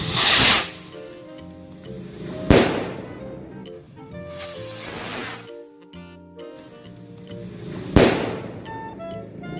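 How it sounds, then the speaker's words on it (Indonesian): Jumbo rocket firecrackers launching outdoors, with several sharp whooshing bursts and cracks spaced a few seconds apart, loud and close, separated by quieter crackling and hissing. "Selanjutnya kita nyalain mercon luncur yang jumbo nih teman-teman."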